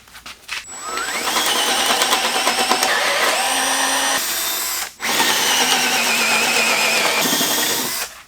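A power drill bores a 31/64-inch hole for a vise receiver-hitch mount, whining loudly and steadily with shifting pitch, briefly stopping near the middle before resuming until the end.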